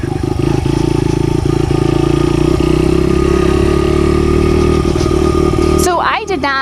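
A dirt bike engine rumbles steadily nearby with a low, buzzy tone and occasional clattery ticks, continuing under a person talking before fading near the end.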